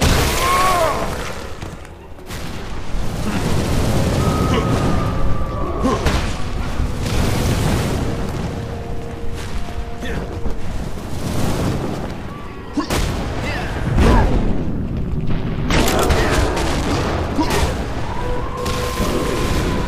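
Missile explosions in a shooter video game, repeated heavy booms and blasts layered with gunfire and clattering effects, loud and nearly continuous throughout.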